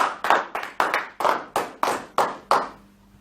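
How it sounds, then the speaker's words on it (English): Sharp, separate hand claps land at an even, unhurried rhythm, about nine in a row, close and distinct rather than a blended crowd roar, then stop into quiet. "So if you all could make a nice applause for Mr."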